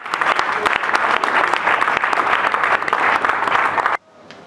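Guests at a wedding party burst into loud, close applause, a thick continuous clatter of hands that cuts off abruptly near the end, leaving only quiet room tone.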